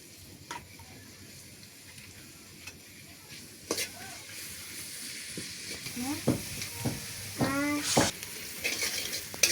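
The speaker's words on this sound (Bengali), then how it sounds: "অবশেষে আমরা পেঁয়াজটা ভাজতেছি" Sliced onions fry in hot oil in a pot during outdoor picnic cooking, a soft sizzle under scattered clinks and stirring knocks, with a voice speaking briefly near the end.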